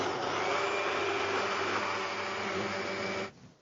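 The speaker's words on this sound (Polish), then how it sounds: "Teraz włączamy Mango Soup Maker." A loud, steady motorized whirring of a Mango Soup Maker blending coffee with milk runs continuously, then cuts off abruptly near the end.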